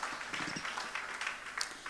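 Audience applause welcoming artists at a national painting contest and workshop, a fairly faint, steady wash of many hands clapping heard from a distance.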